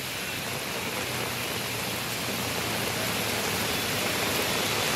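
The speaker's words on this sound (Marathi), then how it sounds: "तर तुर्भेमध्ये देखील मुसळधार पाऊस आहे" Heavy monsoon rain pouring over Navi Mumbai's Turbhe area, a dense, steady hiss of rainfall with no break, moderately loud and even throughout.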